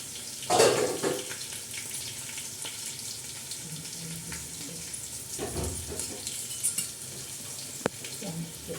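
A spoon stirs biryani pulao in a pan, making soft scraping, stirring sounds over a gentle, steady sizzle, with one louder clatter near the start and a sharp tap near the end.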